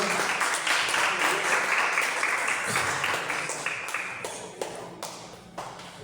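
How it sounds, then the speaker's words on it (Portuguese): A church congregation applauds the Lord during a service, dense sustained clapping filling the hall and gradually easing off over several seconds, with faint voices underneath. "aplauda bem forte o Senhor"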